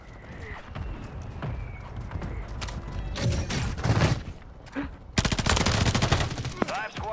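Gunfire in the video game Warzone, a Ranked Resurgence match played on PS5: scattered single shots early, then loud dense bursts of rapid automatic fire in the second half, with players talking over it.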